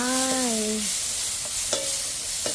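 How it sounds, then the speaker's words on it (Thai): Shallots, garlic and tomato stir-fried for fried rice give a loud, constant close sizzle, opening with a brief tonal squeal and marked by a few quick spatula scrapes. "อันนี้ผัดหอมกระเทียม แล้วก็มะเขือเทศ"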